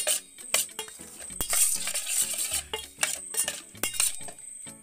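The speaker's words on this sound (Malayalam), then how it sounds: "മുളക് പൊടി, മഞ്ഞപ്പൊടി, ഉപ്പ് മാത്രം ഇട്ടിട്ടാണ് വറക്കണത്. നന്നായി മിക്സ് ചെയ്ത് കൊടുക്കുന്നത്" Fish pieces tossed by hand with chili powder, turmeric and salt in a metal bowl before frying, with irregular scraping, squelching and clinking of utensils close up and no talk.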